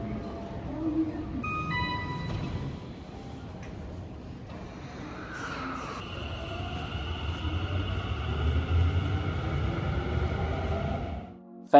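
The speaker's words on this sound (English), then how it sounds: "Now it's time to jump on a train and get home." Riding a train in Yokohama at night, a steady low carriage rumble with brief chimes and tonal onboard announcement sounds over the running noise.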